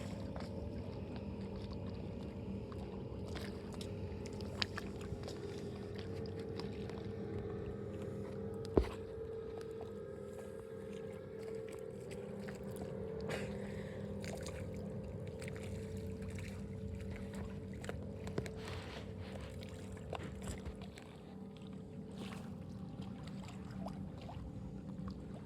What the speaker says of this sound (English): We're sailing south on Biscayne Bay, just south of Miami, Florida.